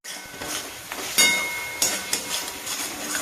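Potato pieces stir-fried in a pan with turmeric, salt, tomato and onion give a steady close sizzling hiss, broken by sharper scrapes and clinks of the spatula.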